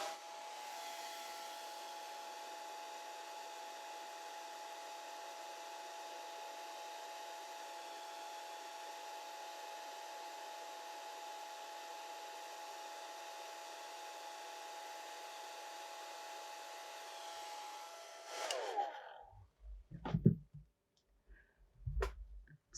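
A hair dryer blows steadily and loudly over a watercolor painting for about eighteen seconds, then clicks off, leaving a few faint thumps and handling noises.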